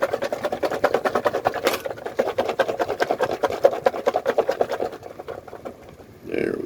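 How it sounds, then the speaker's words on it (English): A bottle of dry ingredients for a Filipino sawsawan dipping sauce is shaken hard, giving a fast, steady, even rattle for about six seconds that stops before a short, muffled rustle at the end. "let me give this bad boy a little shake. Let's mix up those dry ingredients."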